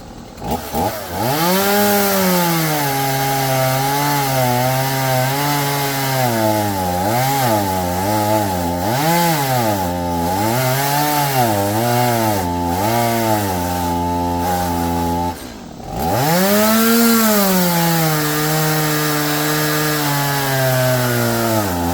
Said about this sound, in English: we got the saw started